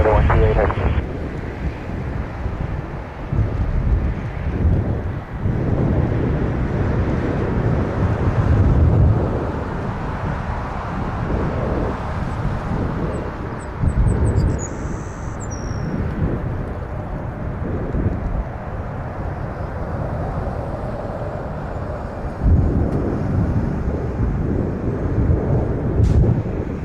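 A large Air Canada heavy airliner lands at Toronto Pearson, its engine roar and wind rush rumbling continuously at a fair distance, with a tower radio voice talking over it.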